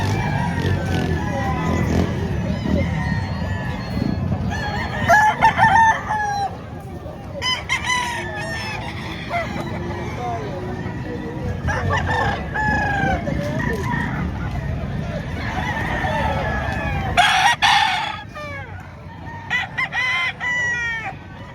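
Chickens and roosters at a poultry sale cluck steadily while several cocks crow loudly in repeated bursts, some near and some farther off, over a busy background with occasional voices.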